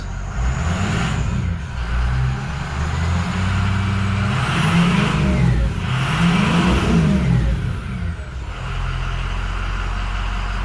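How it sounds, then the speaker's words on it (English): A diesel truck with a 6.0 Powerstroke engine revs up and settles repeatedly, several rising and falling surges of deep rumbling roar, loud and close, with no talking. "Let's give it a couple revs."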